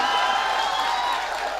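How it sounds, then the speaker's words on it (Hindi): Steady audience applause fills a mushaira poetry recital hall, a continuous wash of many hands clapping at even loudness throughout, with possible faint crowd murmur beneath. "जोरदार तालियां मार दीजिए"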